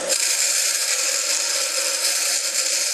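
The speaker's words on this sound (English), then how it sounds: "All you need is something, like I said, just a nice bench grinder like this." A bench grinder grinds a tungsten electrode, a steady bright high-pitched whine with abrasive hiss, close and constant for the whole stretch.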